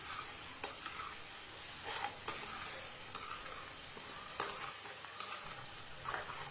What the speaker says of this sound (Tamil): கொஞ்சமாக தக்காளி பழம் சேர்த்து வதக்கிக்கலாம்